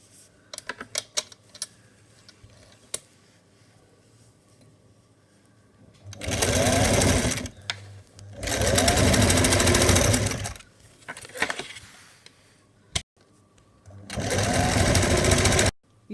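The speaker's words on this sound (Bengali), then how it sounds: "সাইডে সেলাই মারবো" A sewing machine stitches the side seam of a two-layer long party dress, whirring loudly in three sustained runs separated by pauses filled with faint clicks and fabric handling.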